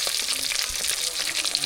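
Food fries in a pan in a home kitchen, a dense continuous hiss and crackle of sizzling oil with faint stirring, close and steady throughout.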